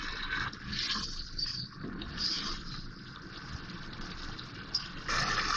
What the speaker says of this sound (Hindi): अब इसमें पानी डालूंगी मैं गलाने के लिए।